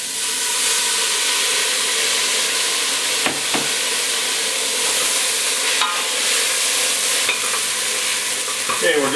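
Stock is poured into a hot pan for a chicken pot pie, setting off a loud, continuous close sizzle and hiss, with a few scraping stirs.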